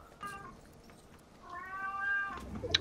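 A house cat meows in a few short, faint, drawn-out cries, close but quiet, over a soft background hum.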